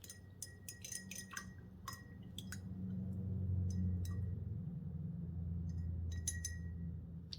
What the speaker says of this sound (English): I'm going to rinse my brush off.